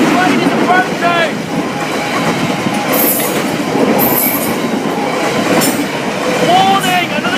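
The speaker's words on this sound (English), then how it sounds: "Warning! Another train is approaching!" Loud, close train running past the level crossing at Hykeham station in Lincolnshire, a steady rolling roar with rhythmic clatter over joints and recurring high wheel squeals.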